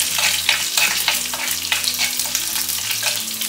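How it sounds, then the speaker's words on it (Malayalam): Curry leaves fry in a pan over a low flame while being stirred, a steady close sizzle broken by regular scraping strokes of the spoon, for a green chilli pickle. "കറിവേപ്പില അതുപോലെ തന്നെ ഒന്ന് ജസ്റ്റ് ഒന്ന് ഇളക്കി കൊടുക്കാം"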